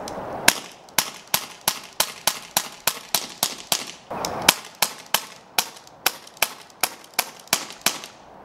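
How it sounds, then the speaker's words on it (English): Pistol shots fired into a Halloween pumpkin crack out one after another in a fast, even rhythm, about two per second, loud and close with brief echoing tails. "For the eyes, I like to use a pistol."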